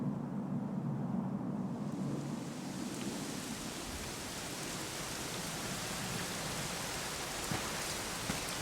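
Steady rainfall in the video game Dragon Quest XI, a dense, even hiss of rain on surfaces that swells in after the first couple of seconds and continues unbroken, with no voices.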